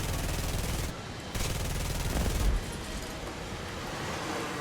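Rapid machine gun fire from a jet in War Thunder, a dense continuous rattle that briefly drops out and resumes, steady and fairly loud throughout.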